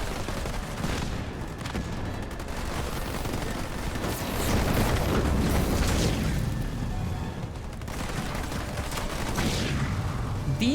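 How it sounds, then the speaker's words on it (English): A mine detonating in Halo Wars 2 during a 1v1 match on the Vault map, heard as a dense, sustained rumble of booms and battle noise swelling through the middle, with no talk. "Decent mine detonation there."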